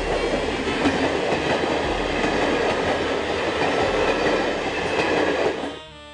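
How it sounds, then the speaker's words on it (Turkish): A train carrying prisoners of war rolls past with a steady, loud rumble and rhythmic clickety-clack of wheels on rails, continuous throughout before cutting off abruptly near the end. "Gemilerden indirilen esirler trenlere doldurularak Hindistan içlerindeki kamplara götürülüyordu."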